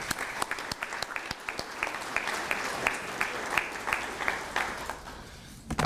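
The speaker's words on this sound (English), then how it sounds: "Another round of applause for our board president" An audience at a school district partners breakfast event applauds steadily, a dense patter of many hands clapping at moderate distance that fades near the end.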